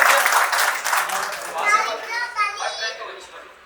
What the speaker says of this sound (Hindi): तो एक बार तालियां इनका